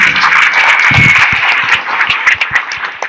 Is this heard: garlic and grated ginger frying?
no